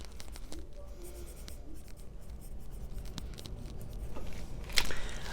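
A pen scratches across paper in a junk journal, a quiet, close, continuous rasp of short strokes, with a brief sharper scrape near the end.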